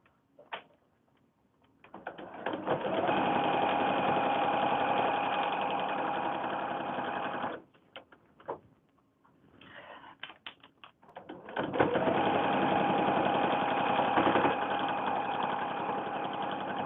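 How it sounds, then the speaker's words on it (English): A sewing machine stitching a foundation paper-pieced windmill or star quilt block, whirring close in two sustained runs separated by a short pause with a few brief stitch bursts. "Okay, let's sew this last piece on."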